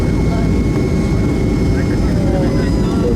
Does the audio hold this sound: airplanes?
yes